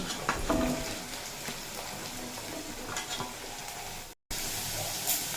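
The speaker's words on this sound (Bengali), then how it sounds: "অল্প নাড়ি চাড়িয়ে এড করে দেব কুমড়ো আর বরবটি" Pumpkin and yardlong beans sizzle steadily in a hot pan as a spatula stirs and scrapes them, with a few light clinks, a moment of dropout near the end, and no talking.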